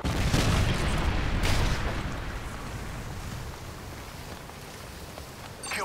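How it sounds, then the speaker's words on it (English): A predator missile blast in a multiplayer shooter game, a heavy boom near the start that fades into a long, broad rumbling wash and then thins out. "Friendly predator missile inbound."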